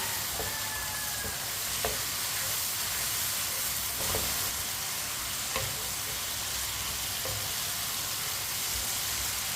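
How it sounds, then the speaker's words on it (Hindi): Pieces of tinda, a round gourd, fry in a pan with a steady, close hiss and sizzle, broken by a few soft clicks of a utensil now and then. No one speaks. "दो मिनट के लिए फ्राई कर लिया मैंने टिंडों को भी"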